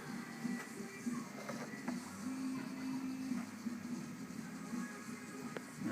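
A small motor driving a haunted bookshelf mechanism whirs faintly in short repeated bursts with a steady mechanical hum between them.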